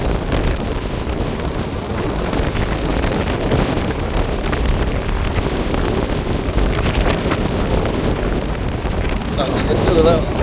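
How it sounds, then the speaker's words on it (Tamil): Strong cyclone wind roaring and buffeting steadily through trees, with loud broadband rush and microphone wind noise throughout, under faint voices. "மரங்களை பாருங்க எப்படி காற்று விழுத்து"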